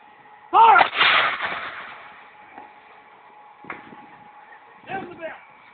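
A cannon fires during a historical demonstration at Fort Girardeau, delivering a single loud, close boom with a rolling echo that fades over a second or two, followed by faint knocks and brief voices.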